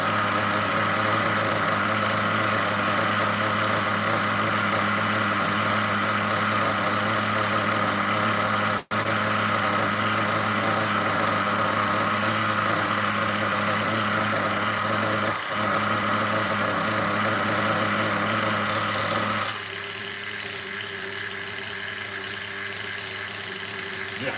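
A nitro RC car engine idling low during break-in, a steady loud buzzing drone that runs without a break, with one brief dropout midway, and the tone shifts and softens slightly near the end; no voices over it.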